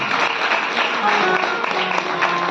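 Dense applause from a gathered audience at a Bhagavat katha religious discourse, honouring a donor's offering; steady clapping fills the room for the whole stretch, with a faint sustained tone underneath.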